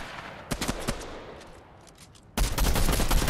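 Bursts of gunfire in a Fortnite match: a few scattered shots, then a sustained loud volley of rapid fire near the end, with no voices over it.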